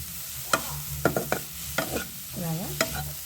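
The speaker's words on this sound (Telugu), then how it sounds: "ఒక 2 నిమిషాలు బాగా ఫ్రై చేసుకుందాం." Carrot pulihora ingredients fry in a pan under a faint steady sizzle, while a spatula clinks and scrapes in quick irregular strokes close by.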